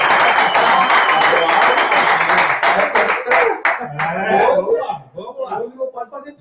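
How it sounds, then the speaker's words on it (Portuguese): A studio audience on a sports talk show claps in dense, sustained applause that fades and breaks up into scattered claps and a few voices toward the end. "Aplausos"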